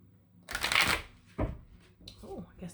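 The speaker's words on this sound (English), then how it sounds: "we're going to go with the White Owl Mystic deck, okay? We're going to give them a shuffle." A deck of White Owl Mystic tarot cards is shuffled up close, with a loud riffling burst, a sharp tap, then softer handling. A voice can be heard faintly near the end.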